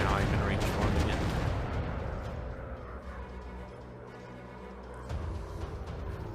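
Anti-aircraft guns fire in a WW1 warplanes VR video game, a dense barrage of booming shots that fades over a few seconds before another burst, mixed with a steady engine drone.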